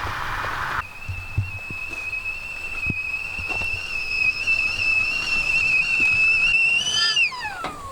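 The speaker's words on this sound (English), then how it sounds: "Oh, kettle's boiling." Whistling kettle boiling inside a camper van in Scotland: a loud, steady high whistle that holds for several seconds before wavering and dropping off as it is taken off the heat.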